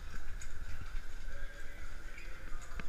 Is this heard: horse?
yes